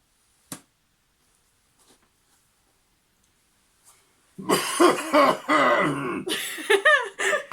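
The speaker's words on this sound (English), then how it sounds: "The final cough." A single sharp cough breaks the silence, followed by a long quiet stretch before people start talking.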